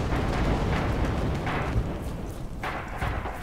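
Artillery fire in the video game Red Orchestra 2, a dense continuous roar of distant explosions and rumbling booms with a few sharper blasts, loud and sustained throughout.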